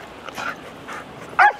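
A small Silky Terrier gives a few short, high yips and barks, the last one sharp and close, over a quiet background.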